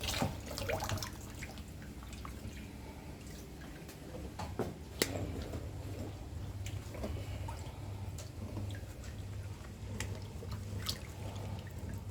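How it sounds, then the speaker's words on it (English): Basmati rice being washed under water, faint running and dripping water with scattered splashes and light clinks in a quiet kitchen, a low hum underneath. "The basmati rice, I'm gonna soak it, wash it 3 times"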